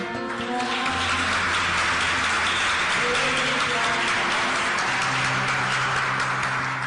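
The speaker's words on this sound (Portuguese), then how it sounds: "aplauda o Senhor." A church congregation claps along in a steady wash of applause while sustained musical tones and a voice carry on underneath.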